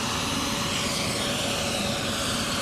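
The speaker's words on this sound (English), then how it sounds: "looks like they're going to be taking lift off in a second" A helicopter sits on the ground in Chippewa, engine running ahead of lift-off, its steady broadband whine and rotor roar continuous and fairly loud with no talk.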